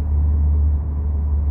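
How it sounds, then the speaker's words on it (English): A VW Golf R engine drones low and steady inside the cabin while driving, a constant muffled rumble with no speech. "Is it just the normal sound of the engine being piped into my cabin?"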